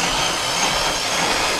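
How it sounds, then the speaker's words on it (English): A power drill bores into and smooths out a bolt hole in a wooden string jig, giving a steady, close, abrasive grinding whir that runs unbroken through the whole moment with no talk. "you're going to want to take your drill and go in and"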